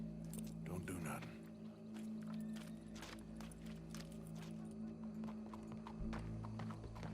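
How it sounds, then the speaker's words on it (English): Horse hooves clip-clop steadily in Red Dead Redemption 2, a continuous trotting rhythm over a low droning background, with occasional whinny-like tones and game voices speaking. "Go brush that horse"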